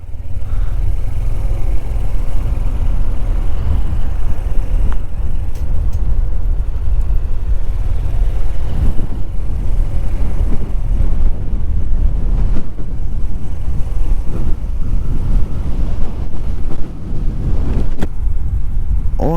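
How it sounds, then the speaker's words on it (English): Cars drive by on a windy road in Normandy, France, with a steady loud engine drone and rumble that swells with each passing vehicle, heard over heavy wind buffeting throughout. "Every car in this country sounds like it's on its last legs."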